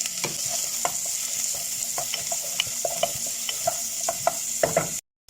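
Garlic and onion sautéing in a little oil, sizzling steadily with repeated scraping stirs throughout, no voices, cutting off abruptly near the end.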